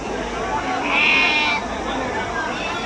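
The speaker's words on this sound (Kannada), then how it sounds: "ನೋಡೋದು ಎಷ್ಟು ಕ್ಯೂಟಾಗಿದ್ದಾವೆ ಕುರಿ ಅಂತ" A sheep bleats once at a Mandya sheep farm, a short high call rising over steady background talk.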